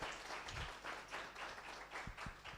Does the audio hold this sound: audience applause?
yes